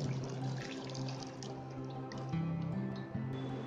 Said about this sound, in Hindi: पानी और पनीर अलग हो गया है, हम इसे छन्नी में छान लेंगे।